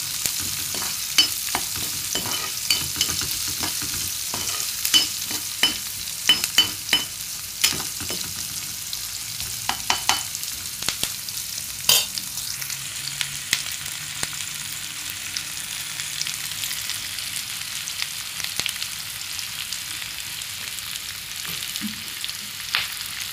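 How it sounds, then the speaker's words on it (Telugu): Curry leaves going into hot oil in a pan and being stirred: steady frying sizzle with frequent sharp scrapes and clacks of a spoon against the pan, close and continuous, without voices. "అలా వేగిన తర్వాత కొంచెం కరివేపాకు వేసుకొని తిప్పుకోవాలి."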